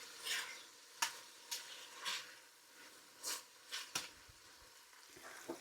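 Vegetables soften in oil in a pot for a slow-cooked beef pot roast, a faint sizzle broken by repeated soft scraping stirs of a spoon at an irregular pace.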